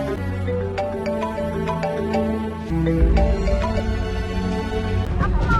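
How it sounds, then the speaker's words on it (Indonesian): A loud electronic phone ringtone plays a bright, repeating melody continuously, close and clear, with no talking over it. "Handphone Mas Rusdi bunyi"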